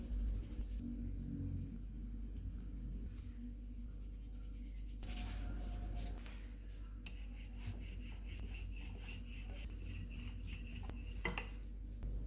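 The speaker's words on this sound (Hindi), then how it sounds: "एक पेड़ा लेंगे, इसको बेल लेंगे।" A rolling pin pressing out a ball of egg paratha dough on a board, producing soft, steady rubbing and faint knocks, quiet and close with no talking.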